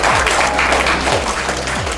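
A crowd applauds steadily for about two seconds, dense clapping filling the room at a loud, even level.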